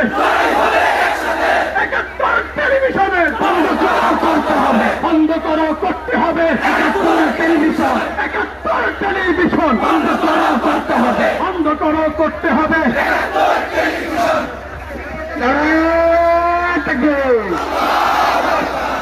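A massive crowd chants rhythmically at a rally at Baitul Mukarram, with loud amplified call-and-response voices. The roaring shouts carry on continuously throughout.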